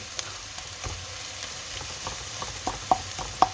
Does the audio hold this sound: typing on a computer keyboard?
no